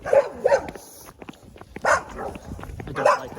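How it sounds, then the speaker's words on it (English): Dogs bark in a series of sharp, loud yaps close by, with short bursts spaced across the moment and some background voices in between. "I do not like these dogs that bark."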